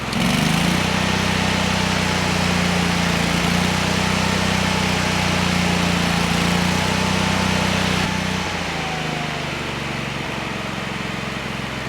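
A Lincoln Ranger 8 welder engine idles steadily and loudly up close with a low droning hum, then settles to a slightly lower, quieter idle partway through, with no talking over it.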